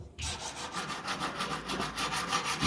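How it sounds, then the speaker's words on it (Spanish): Sandpaper rubbing against a metal signet ring during jewelry making, a close, steady rhythmic scraping with repeated back-and-forth strokes after a brief silent start. "Y comenzamos a lijar."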